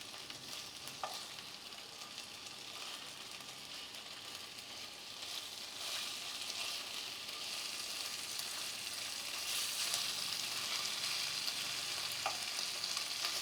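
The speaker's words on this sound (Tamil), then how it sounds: "இப்போ நம்ம ஃபிஷ்ஷை திருப்பி போட்டுக்கலாம்" Mackerel fish frying in coconut oil in a pan, a steady loud sizzle throughout with occasional scraping and clinks as the fish is flipped.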